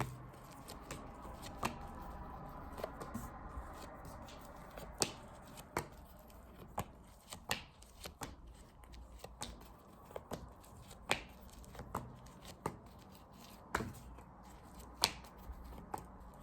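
Tarot cards being shuffled and laid out one by one, producing soft irregular snapping flicks and slaps close up over a quiet background.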